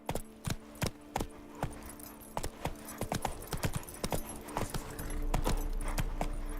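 Roach the horse's hooves clip-clop steadily on the ground in Witcher 3, with a regular close rhythm over a faint game ambience that builds slightly toward the end.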